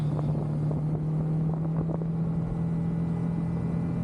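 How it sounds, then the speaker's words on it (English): Wind buffets steadily past a rider on a moving motorcycle, a constant roaring rush with a low engine hum running beneath it and no pauses. "I got to get used to riding with at least a little bit of wind"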